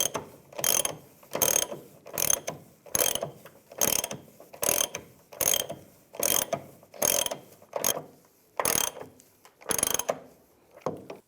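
A hand ratchet tightens the leaf spring bolts on a 2007-2013 Chevrolet Silverado 1500 with about a dozen evenly spaced bursts of clicking. Each stroke is a short rapid run of pawl clicks, close and clear, with no talk.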